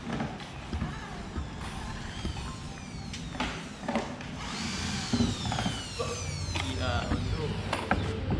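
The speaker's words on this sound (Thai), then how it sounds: "เดี๋ยวไปดูทีมงานเขากำลังขันดอกลำโพงครับตัวนี้" Power tools drive screws into loudspeaker drivers in a shop, with short whirring bursts and ratcheting clicks over a busy background of clatter and voices.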